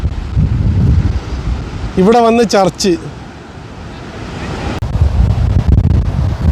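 Strong coastal wind blows at Dhanushkodi by the sea, loud gusts roaring and buffeting close up, with a brief stretch of someone speaking in the middle.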